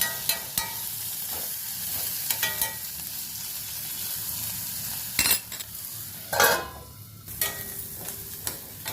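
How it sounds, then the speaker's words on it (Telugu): Onions browning in a pan, frying under a steady soft sizzle while a spoon stirs and scrapes, with several sharper clinks and scraping bursts spaced through the sizzle. "కొంచెం ఉల్లిపాయలు మగ్గిపోతే చూడండి, కొంచెం ఉల్లిపాయలు కొంచెం కలర్ వచ్చాయి"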